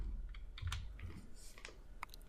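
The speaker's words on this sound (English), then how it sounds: "So I'm just going to type in a simple console command." Soft, quick keystrokes on a computer keyboard while a console command is entered, a few light clicks spread across a steady low room hum, close but faint, with no talking.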